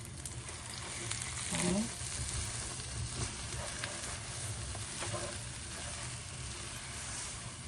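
Chana dal and sugar cook together in a pan for puran poli, giving a soft, steady sizzle with occasional stirring, while a voice briefly speaks over it.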